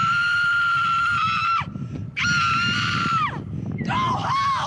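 A woman screams loudly and shrilly at a street protest, three long piercing wails with short breaks between them, close and dominating the scene.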